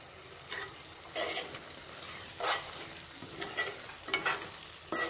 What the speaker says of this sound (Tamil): கொத்தமல்லியை சேர்த்து கிளறி விட்டு ஒரு 1 நிமிஷம் அப்படியே வச்சுருவோம்